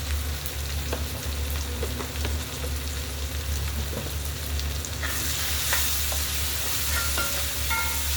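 Chili powder and salt sizzle in a pan of chana dal and tomato curry, a steady close frying hiss with a few soft stirring scrapes and no voices.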